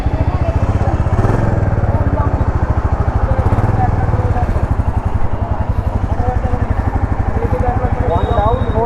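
A new Royal Enfield motorcycle engine runs close by with a loud, steady thumping beat that holds even throughout.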